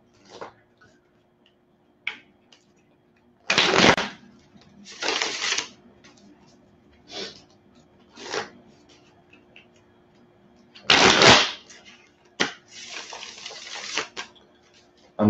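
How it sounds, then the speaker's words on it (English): Several bursts of riffling card shuffles, close and crisp, separated by quiet gaps with small clicks and taps of cards being handled. "I'm gonna shuffle these."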